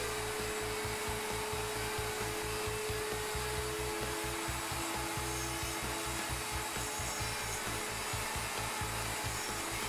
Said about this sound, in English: Plunge the router and route the first tenon.